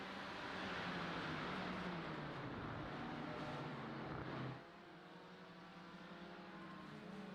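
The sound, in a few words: BMW race cars in a sim racing game at Brands Hatch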